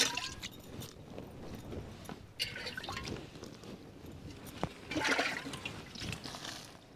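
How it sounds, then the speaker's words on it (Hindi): Water splashing and trickling as a cow's udder is washed before milking in a Pakistani village: soft, uneven pouring and dripping with a few louder gushes, fairly quiet throughout. "तो सबसे पहले जो है ना इसके थन जो है वो धो लेते हैं"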